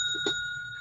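A single bright ding of a small bicycle-style bell rings out once and fades quickly, clear and close with no voices.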